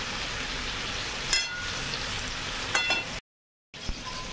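Papaya pieces frying lightly in oil in a pan, a steady soft sizzle with a few louder crackles and stirring scrapes, broken by a brief silent gap.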